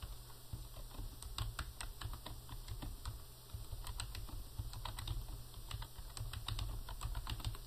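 Rapid, irregular keystrokes on a computer keyboard as a memo is typed into check-writing records, clicking close and steady for the whole stretch over a low constant hum, with no talking.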